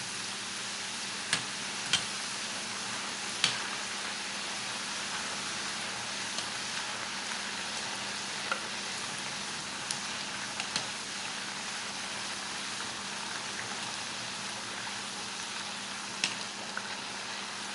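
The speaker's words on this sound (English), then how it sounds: "I've got my oil heated up to about 350 to 360 degrees. Now I'm just going to start dropping in the tortillas" Tortillas frying in oil heated to about 350 degrees make a steady, even sizzle throughout, with a few sharp crackles and pops rising above the continuous hiss.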